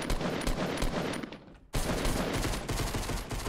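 Sustained rapid gunfire in Fortnite, loud and continuous with a brief dip in the middle before resuming, close and dense with no clear talk.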